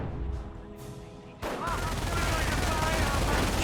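Machine gun fire rattles through a Company of Heroes 1 battle, a dense continuous burst of rapid shots mixed with explosions and battle noise, loud and sustained after a brief quieter start.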